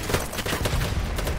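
Sustained, loud gunfire fills a BattleBit Remastered firefight, a dense rapid clatter of shots running continuously without pause.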